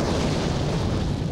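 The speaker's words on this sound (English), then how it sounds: "And the next thing I heard was this explosion." A German tank being knocked out in the WWII desert fighting at Alamein explodes in a loud, sustained broadband roar that fills the whole moment without a break.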